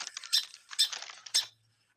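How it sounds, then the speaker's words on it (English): Song sparrow giving its short call, three brief high chips spaced about half a second apart, clear and close in a quiet setting. "It's a song sparrow. And this song sparrow has a call."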